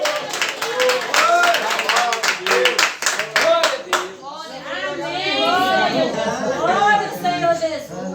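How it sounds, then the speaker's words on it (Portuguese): A church congregation claps rhythmically in praise, with steady hand claps over loud chatter and singing-like voices, close and busy throughout. "Vamos receber o irmão Manuel com as palmas para Jesus."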